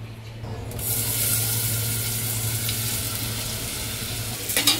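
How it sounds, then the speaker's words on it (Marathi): Onion sizzles in hot oil in a pan while cooking chicken drumsticks, a continuous close frying hiss with light stirring and a short clatter at the very end. "आणि तो ऑनियन ह्याच्यात टाकायचा आहे"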